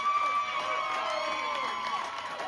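Packers fans at a pep rally cheer and shout together, a steady, dense crowd roar that holds throughout.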